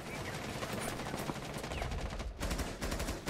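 Dense rapid gunfire crackles in a video game shootout, bursts of automatic shots running almost continuously with one brief pause, loud and close.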